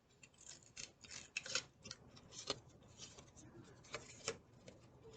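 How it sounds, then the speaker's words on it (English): Scissors snipping through the elastic ear loops of a face mask, a series of quiet, close, crisp cuts and small clicks spaced irregularly over a faint hushed background. "I need to cut. I hope this works. Cut my ear loops."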